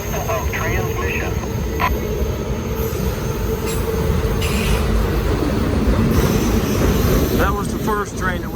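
A freight train rolls past close on the nearest track with a steady loud rumble, wheel squeal and metallic screeching, and a brief voice-like chatter near the start.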